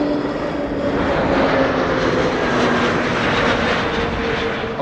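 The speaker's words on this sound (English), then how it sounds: "EasyJet A320neo coming in from London Stansted" An EasyJet Airbus A320neo on arrival at Amsterdam Schiphol, a loud continuous jet roar with steady whining engine tones, swelling slightly in the middle and easing off at the very end.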